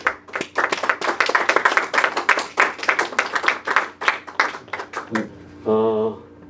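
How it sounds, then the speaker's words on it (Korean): Applause from a gathered audience at a report meeting welcoming journalists back from a reporting trip to North Korea, a burst of uneven individual claps lasting several seconds before fading, then a voice speaking. "한번 박수로 용기를 좀 환영해 주셨으면 좋겠습니다"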